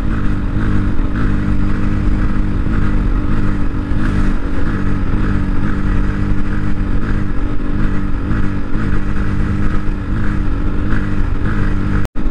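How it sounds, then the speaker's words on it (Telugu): A 2024 NS 160 motorcycle engine runs rough and sputters as its fuel runs out, loud and close for the whole stretch with a steady dense drone and no talking. "చూడండి చాలా అంటే చాలా ఘోరంగా ఊపిలిస్తుంది. ఫ్యూయల్ అయితే అయిపోయింది."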